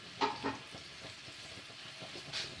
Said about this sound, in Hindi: चिकन को फ्राई करेंगे 10 से 15 मिनट